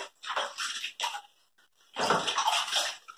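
Running cold water splashes over a stainless steel drywall finishing trowel during rinsing, in two loud gushing bursts separated by a brief pause.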